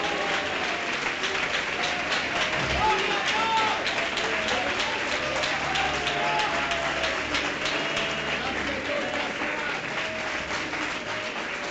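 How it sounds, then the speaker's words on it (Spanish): A church congregation at a Spanish-language service claps loudly and steadily for the whole stretch, a dense, sustained wall of applause with a few cheers or voices mixed in. "Un aplauso para el Señor."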